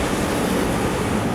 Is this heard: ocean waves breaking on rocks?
yes